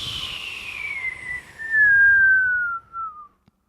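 A long falling whistle glides downward in pitch for about three seconds, loud and alone. It ends in near silence with a tiny tap.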